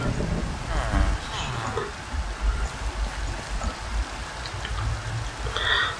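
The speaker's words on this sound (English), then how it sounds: "this rain's not going to let up." Steady rain falling in Minecraft near a village, a continuous hiss with faint patter that carries on throughout the clip.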